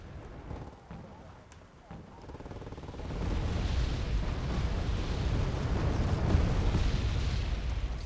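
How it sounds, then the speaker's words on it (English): Bombs burst in the Wargame: Airland Battle video game as a heavy, rumbling roar of explosions that swells and holds steady after a few duller thumps. "But again, dropping bombs on all this stuff."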